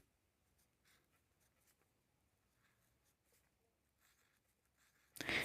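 Pen writing numbers by hand on paper, faint scratchy strokes coming in short bursts, close and quiet, ending in a sudden loud noise.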